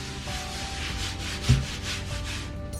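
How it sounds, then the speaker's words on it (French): A sponge loaded with Pink Stuff cleaning paste scrubs a wall in rhythmic back-and-forth strokes, a soft gritty rubbing repeated about every third of a second, close and moderately quiet. "petit peu de crème là sur mon éponge et je vais frotter"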